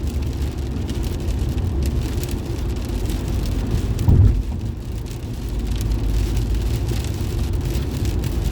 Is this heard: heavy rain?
yes